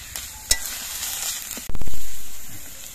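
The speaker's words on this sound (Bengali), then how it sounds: "এবার আস্তে আস্তে জাল দিয়ে এই পাতাগুলোকে কিছুক্ষণ রান্না করে নিতে হবে" Cabbage outer leaves cook gently over low heat in a pan, giving a steady soft sizzle; partway through, a louder, stronger burst of frying rises and slowly fades.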